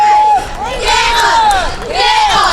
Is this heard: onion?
no